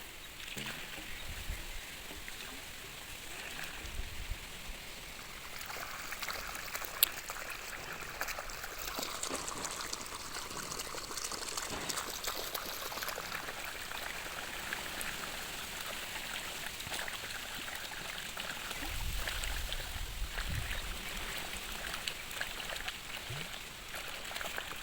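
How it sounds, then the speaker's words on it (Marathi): Irrigation water flows along a furrow in a fenugreek field, a steady soft rushing trickle that runs throughout with no voices. "तुम्ही बघू शकता की ओप्याला पाणी जात आहे मेथीच्या जी आम्ही मेथी टाकलेली आहे त्या ओप्याला"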